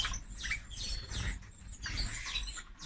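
Canaries chirping in a bird room, quick high twittering calls in several bursts at moderate-to-faint level, with soft rustling and patter in between.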